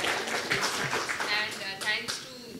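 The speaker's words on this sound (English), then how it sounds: "Please give them a big round of applause for sharing." An audience claps for a panel at its close, a moderate run of scattered hand claps with a voice speaking over it.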